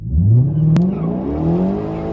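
A Ford Mustang 5.0 revs hard during a brake-torque launch with traction control off, its engine note rising loud and close and then holding steady.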